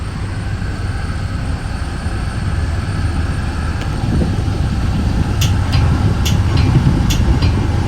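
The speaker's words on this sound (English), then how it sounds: "westbound Metra headed from Chicago Union Station to Aurora Transportation Center" A westbound Metra commuter train heading from Chicago Union Station to Aurora runs with a loud, steady low rumble and roar, with a few brief high metallic squeals near the end.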